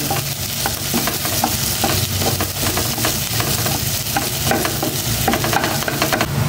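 Pork and sliced tofu stir-fried together with garlic and onion, a loud, steady sizzle with repeated scraping strokes of a utensil against the pan, close up with no talking.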